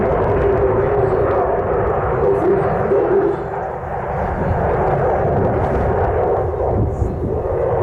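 A Danish Air Force F-16 fighter jet passes at an airshow, its loud, continuous engine roar filling the whole stretch with a slight dip partway through.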